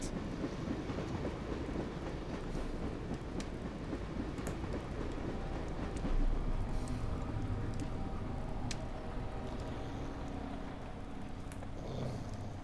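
Train running in the video game Dreamfall: The Longest Journey, a continuous low rumbling rattle of rail cars with faint clicks and clanks, steady and distant-sounding, swelling slightly midway.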